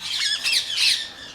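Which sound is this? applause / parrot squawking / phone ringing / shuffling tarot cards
parrot squawking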